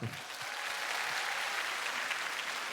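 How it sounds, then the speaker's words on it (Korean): A studio audience applauds steadily for a Korean indie rock band on a KBS music talk show, a dense, even wash of clapping that holds alone throughout. "박수 한번 주세요."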